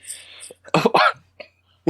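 A few short, rough bursts like a cough or throat clearing, loud and close, separated by brief silences.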